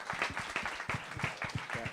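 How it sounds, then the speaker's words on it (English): Quiet round of applause from an audience at a Lakmé Fashion Week event, distinct rhythmic hand claps repeating in quick bursts, fairly faint and close. "he needs a really loud round of applause"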